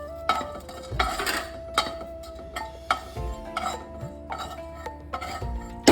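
Whole spices dry-roasting in a pan, stirred with a utensil that scrapes and clinks against the metal in irregular strokes, fairly quiet and close.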